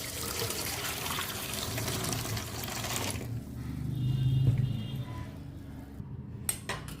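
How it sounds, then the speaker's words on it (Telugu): Water runs and splashes over moong dal in a perforated metal colander, a close, steady pouring with light clinks of the vessel that tapers into quieter handling sounds. "ఇలా ఒక గిన్నెలో ఇలా హోల్స్ ఉన్న చిల్లులు గిన్నె తీసుకొని వాటర్ పోసండి"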